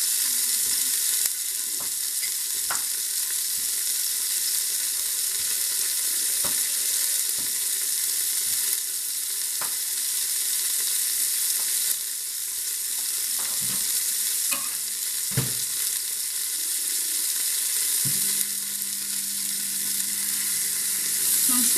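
Beef for a carbonade browning in a pan, with a steady sizzle and frying crackle that runs continuously. Occasional stirring scrapes and clinks break through, and a low hum enters near the end.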